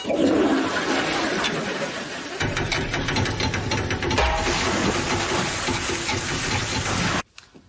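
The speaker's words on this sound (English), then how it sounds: "this was the one rare occasion when Jimmy actually remembered to flush." A household toilet flushes loudly and close: a rushing gush of water swirls for about seven seconds, then cuts off abruptly into quiet refill trickling.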